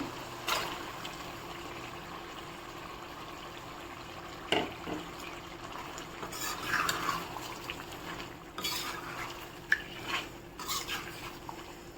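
Chicken liver is stirred and fried in a pan for a restaurant-style liver fry. A utensil makes sporadic scrapes and clinks against the pan over a faint, steady sizzle.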